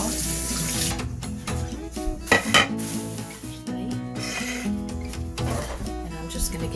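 Running tap water rinses a batch of thirteen steamed duck eggs in a kitchen sink, a steady splashing stream with occasional clinks of dishes or a pot, continuous and close.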